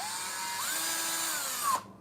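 A single burst of a power drill whirring, its pitch rising slightly then winding down as it stops.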